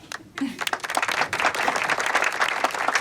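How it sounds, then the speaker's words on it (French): A crowd applauds the young readers' prize winners of Willow School, dense steady clapping that builds after a brief quiet start and holds loud and close throughout. "On les applaudit tous"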